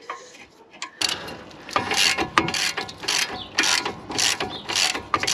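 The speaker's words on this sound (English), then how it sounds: "So if you use a breaker bar in the correct socket, you should be able to get it off without much of a problem." Breaker bar and socket working loose the brake bolts on a Vauxhall Insignia during a Brembo brake change, a run of close, loud ratcheting clicks and metallic creaks in uneven bursts after a quiet opening second.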